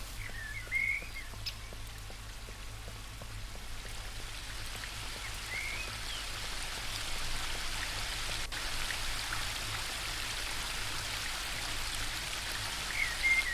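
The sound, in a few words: flowing spring brook in video game Book of Unwritten Tales 2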